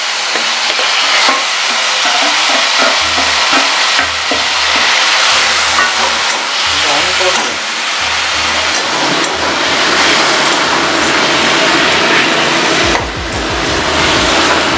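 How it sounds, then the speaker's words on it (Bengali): Bathua greens frying with garlic in a hot pan give a loud, continuous close sizzle and hiss that runs steadily throughout, with faint scraping of stirring underneath and no talking. "শাকটা এবার দিয়ে দিচ্ছি।"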